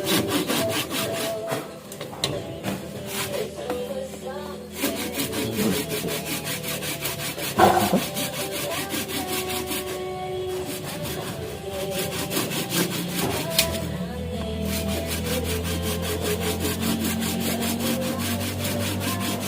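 A hand saw works through a hard calabash fruit in steady, continuous back-and-forth strokes, close and loud, with a brief knock partway through and no talk.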